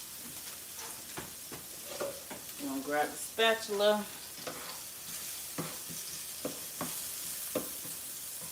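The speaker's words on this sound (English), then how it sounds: "Okay, I know you hear that sound, it's nice and sizzling." Food for a Mexican stir-fry sizzles steadily in a pan close by, with scattered clicks and scrapes of a utensil while a person speaks briefly over it.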